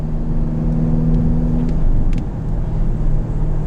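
A 2021 Ferrari Portofino M engine hums steadily at cruising speed with road noise on a warm summer day, a continuous low drone and no one speaking.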